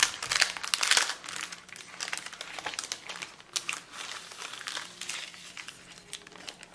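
Paper and wrapping of a gift package crinkle and rustle close by as it is opened by hand, a continuous run of crisp crackles with brief louder handling bursts.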